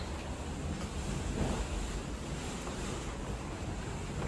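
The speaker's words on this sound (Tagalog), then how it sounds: "Grabe ang hangin guys." Strong typhoon wind roars steadily outdoors, a continuous broadband rush with gusty swells, dense and close with no voices.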